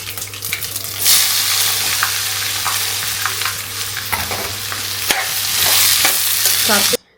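Potatoes dropped into hot oil with cumin, ajwain and dried coriander set off a loud, steady sizzle close by, with stirring scrapes and clinks throughout and no talking.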